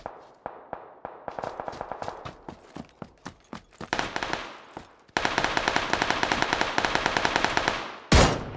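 Video game gunfire: single shots crack out one by one, then quicken into dense, loud automatic bursts that run for several seconds before a sharp, harsh blast at the end.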